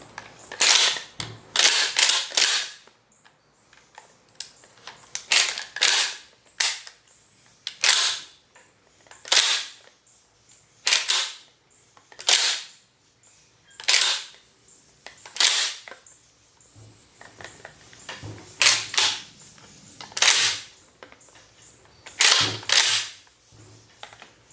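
The pump action of a Gforce GF12 shotgun with a misbehaving mechanism is worked over and over, giving sharp, close metallic clacks that come in clusters with short pauses between them, and no voices.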